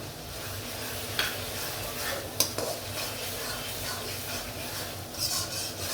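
Masala spice paste for a wedding-style chicken roast is stirred and fried in a pan, with a steady sizzle under scraping, rubbing spoon strokes and a couple of sharp knocks against the pan.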